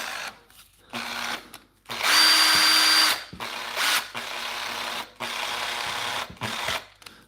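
Makita power tool running in short bursts of whirring drill-like motor noise with a steady hum, separated by brief silences, close and fairly loud, with no talk.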